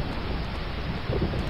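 Heavy rain and rolling thunder in the video game Home Behind, a dense, steady downpour wash with a deeper rumble swelling near the end, alone without voices.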